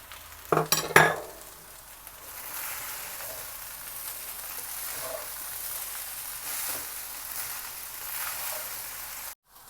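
Mashed chicken cube and garam masala being stirred into rice for chicken fajita rice, starting with a few sharp clinks of a spoon against the pot, then a low, steady soft sizzle with faint stirring, no talk.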